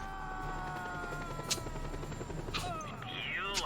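Helicopter rotor and engine drone in the video game Just Cause 2, a steady mechanical hum running throughout alongside game gunfire, with short sharp bursts near the middle and end.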